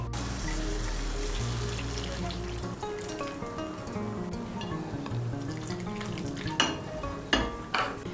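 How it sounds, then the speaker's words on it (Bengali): A spoon stirs lentils into hot water in a pot for a flattened-rice khichuri, making a continuous soft sloshing swirl with a low steady hum, then a few light clinks of the spoon against the pot near the end. "গরম জলটাকে ভালো করে মিশিয়ে নেব"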